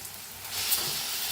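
Mashed eggplant for bharit is stirred into a hot pan and sizzles, a close, continuous hiss that swells slightly partway through.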